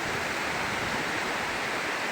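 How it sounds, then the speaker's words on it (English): Asari River rushing along steadily after a night of heavy rain, a dense broadband roar of flowing water filling the whole clip at an even, constant level with no voices. "So this is Asari River."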